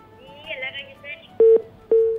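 On a telephone call to a live TV show, the line cuts off and two short, loud dial-tone beeps sound near the end, after a brief stretch of faint voice.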